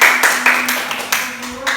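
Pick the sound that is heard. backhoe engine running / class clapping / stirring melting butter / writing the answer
class clapping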